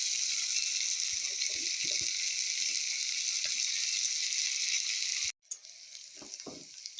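Rice with plenty of garlic sizzles loudly and steadily in a pan, punctuated by a few stirring scrapes; the frying briefly cuts out near the end and resumes more quietly.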